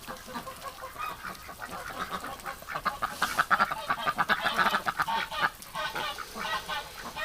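Muscovy ducks in fresh water give soft, rapid, breathy hissing and huffing calls that swell in the middle and trail off, close and moderately loud, with no talk.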